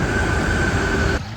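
Train ride arriving at Villa Seca, a steady low rolling rumble with a sustained tonal whine that cuts off abruptly near the end, close and continuous, no talking.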